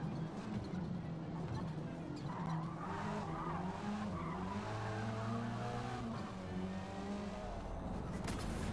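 Race cars in a video game skid with long tire squeals over roaring engines, all at a steady level for several seconds with no speech.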